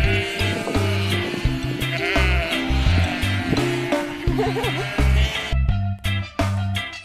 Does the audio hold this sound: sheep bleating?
yes